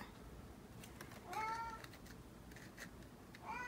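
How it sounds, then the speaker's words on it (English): A cat meows twice nearby, a short wavering call followed by the start of another, with faint clicks and soft room noise in between. "Hi, kitty."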